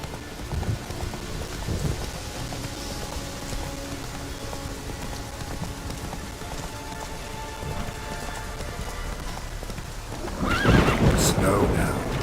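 A horse in The Witcher 3 video game neighs and whinnies amid steady rain on surfaces and clip-clopping hooves, with a louder whinny burst near the end.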